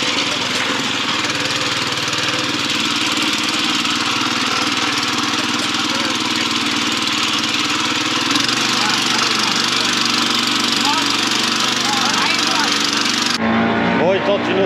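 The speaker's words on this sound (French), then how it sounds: "ils essayent de creuser le sable avec un moteur de pirogue" A pirogue's outboard motor runs steadily in a river as it churns into sand, a loud continuous drone with a shift in tone late on, while voices talk over it.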